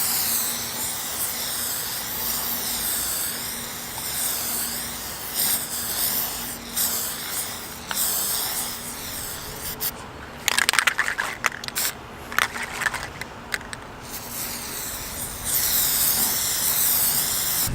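Plasti Dip aerosol sprayed onto a Dodge Challenger fuel door, a loud close continuous hiss broken by a stretch of short sputtering bursts, then steady spraying again.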